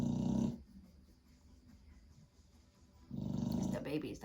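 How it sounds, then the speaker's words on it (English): Pets snore loudly in two rhythmic, rumbling breaths close by, separated by a quieter pause. "That babies are snoring."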